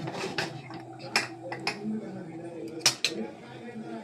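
Metal lid of a pressure cooker being closed in a home kitchen, a few sharp clinks and clanks close by with a voice talking in between.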